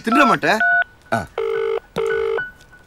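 A phone dials a number, sounding three short electronic keypad beeps spaced evenly after a brief burst of talk; a voice speaks once more between the first and second tones.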